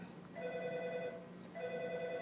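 A phone rings faintly in a quiet room with a repeating electronic two-part trill, sounding twice in short bursts with a brief gap between them, with no talking over it.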